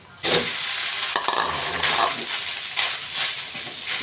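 Rice is stir-fried in a hot pan for Thai-style fried rice, with continuous loud sizzling and the scrape and toss of a spatula.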